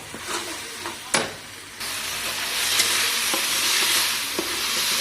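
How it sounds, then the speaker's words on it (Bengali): Tomato pieces being sautéed in oil and spices for a vegetable sabji, with a steady close sizzle and hiss that swells midway, broken by a few scraping stirs of the spoon in the pan; no talking. "এটাও কষে নেব।"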